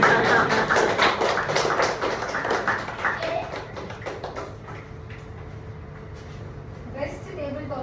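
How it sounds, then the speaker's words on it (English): Audience clapping at a Toastmasters club meeting awards moment, a dense burst of hand claps that gradually thins and fades over several seconds, with a few scattered claps and a brief voice near the end. "Let's show gratitude by clapping for the moment."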